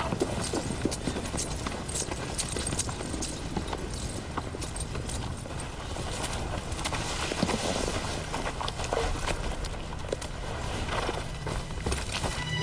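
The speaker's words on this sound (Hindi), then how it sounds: "कुछ घोड़े सवार इस तरफ आ रहे हैं।" Horse riders approach with a steady, continuous clip-clop of hooves that patters on without a break for over twelve seconds, fairly loud and close.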